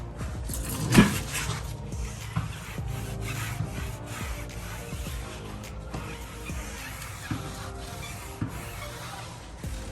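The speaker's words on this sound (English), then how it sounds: "And just a couple rubs over it, the blue starts going away, starts settling in." Tire coating is rubbed into a car tire with an applicator, producing soft, continuous close-up rubbing and wiping strokes with a few louder knocks, quiet overall.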